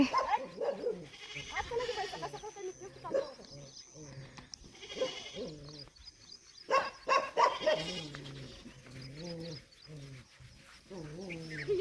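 Goats bleat repeatedly, several calls overlapping near and far, while people talk over them.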